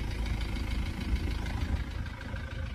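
A Ford Transit Mark 7 with a 2.2 diesel engine idles close by, a continuous, even, throbbing rumble with a slight knocking texture and no pauses.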